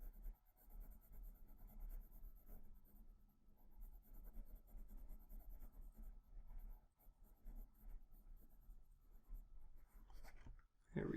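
A peach-coloured pencil shades highlights over yellow on paper in a fish drawing, giving a soft, steady scratchy rubbing of strokes close by and faint, with no talking.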